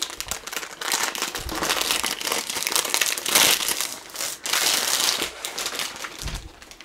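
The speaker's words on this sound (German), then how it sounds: "das Bild war im Karton und ist nochmal in einer schönen Folie eingepackt. Ich hole das Bild jetzt mal raus" A diamond painting canvas being drawn out of its plastic foil wrapping, with continuous close crinkling and rustling that swells and eases in bursts over several seconds, no voices.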